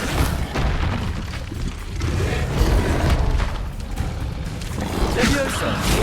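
Incendio fire spell cast in the video game Hogwarts Legacy, heavy booming bursts and rumbling whooshes that continue for the whole stretch, loud and dense.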